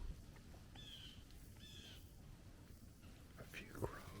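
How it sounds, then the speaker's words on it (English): Crows caw several times in a quiet outdoor hunting area in Illinois, their harsh calls coming in short bursts at a moderate distance over faint background noise, with a soft voice whispering nearby. "A few crows, and that's about it."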